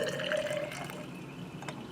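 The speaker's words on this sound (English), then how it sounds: "I'm going to add 75 milliliters of deionized water" Deionized water is poured into a laboratory flask holding KHP, giving a short, moderately loud trickling and gurgling fill that fades into faint dripping.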